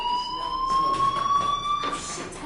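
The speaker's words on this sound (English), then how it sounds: "Hey, do you hear that fire alarm? That means you should be outside." A fire alarm rings steadily in the video game Life is Strange, a loud continuous electronic tone with a slightly wavering pitch, sounding alone.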